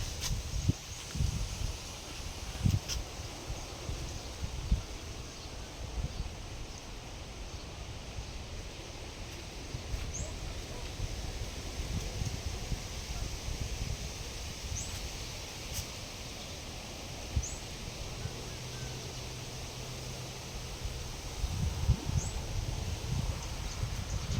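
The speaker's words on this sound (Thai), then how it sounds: "ลมแรง ลมแรง" Strong gusting wind sweeps through a durian orchard, a low steady roar of rustling leaves and gusts that swells and eases throughout, with faint thin chirps in the background.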